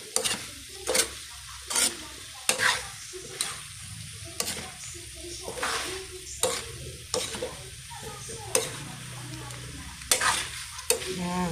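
Chayote being sautéed in a pan, with a steady close sizzle of frying and repeated sharp scrapes and clinks of a utensil stirring at irregular intervals, no talking.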